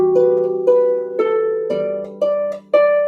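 A simplified piano arrangement of Hark the Herald, played from the second measure: six clear, separate melody notes over a sustained lower note, moderately loud and close, with no voices.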